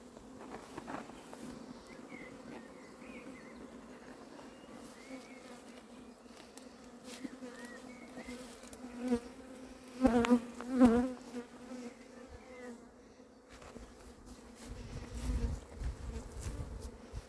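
Honey bee swarm being collected at Varennes-sur-Seine, a faint steady buzzing drone throughout, swelling louder midway as individual bees pass close, with some rustling handling noise near the end.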